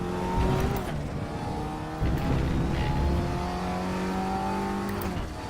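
An Audi TT Cup 2016 race car's engine drones steadily at RaceRoom Raceway National in a racing game, pitch climbing through the gears with a few brief shifts and dips, loud and continuous, with no one talking.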